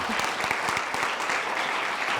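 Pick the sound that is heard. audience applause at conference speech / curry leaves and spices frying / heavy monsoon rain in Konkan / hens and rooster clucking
audience applause at conference speech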